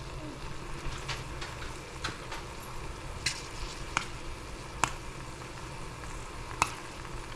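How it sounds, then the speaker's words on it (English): Soft bubbling sizzle of cranberries cooking in a hot pot with scattered sharp little pops and crackles as they burst, fairly quiet and close, no talking. "I'm going to stir them as they continue to pop"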